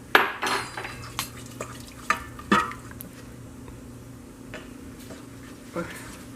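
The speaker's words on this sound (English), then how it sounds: "Now we're adding some flour to the oil." Flour is stirred into hot oil in a pot to start a roux for Romanian red bean soup, with scattered scraping clinks of a utensil against the pan over a faint, low sizzle.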